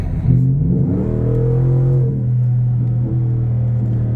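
A noisy truck at a car show revs its engine up and holds a loud, steady roar close by for several seconds, with no talking over it.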